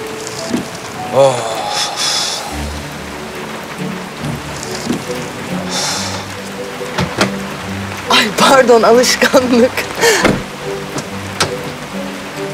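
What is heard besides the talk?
sudden heavy rain with thunder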